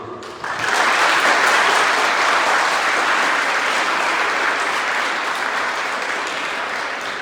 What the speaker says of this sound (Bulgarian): само аплодисменти за община Русе